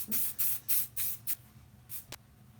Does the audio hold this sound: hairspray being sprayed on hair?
yes